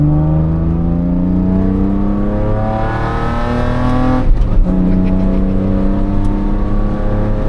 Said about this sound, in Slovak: Wow, ako ja mám tak rád tie benzínové radové 6-valce.